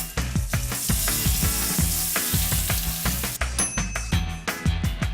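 A portion of zucchini fries in hot oil in a pan, sizzling loud and close, with repeated clinks and scrapes of a utensil against the pan in an uneven rhythm.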